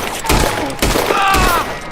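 Bursts of rapid gunfire in the Western video game Red Dead Redemption 2, several loud close shots and volleys in quick succession over two seconds, with a voice talking among them.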